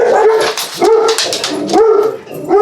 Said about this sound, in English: Sorry, the dogs, they have issues, especially one.